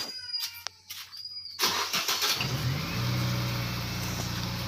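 An older car fitted with a turbo whistler exhaust starts up with a burst of noise, then settles into a loud, steady engine drone with a whistling tone riding on top. No one speaks.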